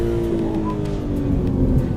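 A car with a paddle-shift gearbox drives in a racing simulator, its engine droning steadily and loudly at a constant pitch with a slight rising whine, close and alone without talk.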